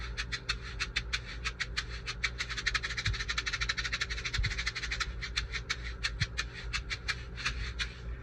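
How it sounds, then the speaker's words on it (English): Egg shakers played in a church percussion setting, a rapid, even stream of crisp rattling shakes, moderately quiet and close, continuing alone over a low background hum. "The egg shaker has a lot of control because it's in a very small area."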